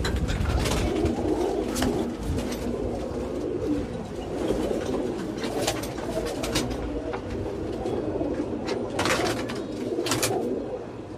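Caged pigeons coo steadily and close by, a dense layer of overlapping calls running throughout with faint chirps mixed in.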